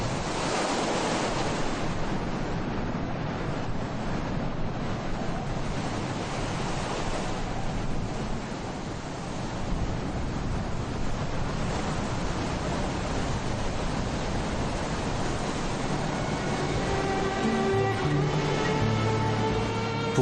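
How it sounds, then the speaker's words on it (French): At high tide in Essaouira, strong wind buffets the microphone over crashing ocean waves, a loud, continuous roar lasting throughout with no voices. "à marée haute, le vent se met à souffler fort"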